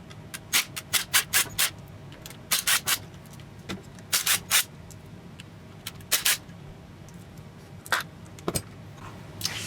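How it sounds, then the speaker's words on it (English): Metal parts and tools clink and rattle in short irregular bursts while the bearing retainer is removed from an AX15 manual transmission, several sharp knocks and scrapes close by with quiet pauses between. "Next, I need to take off this bearing retainer."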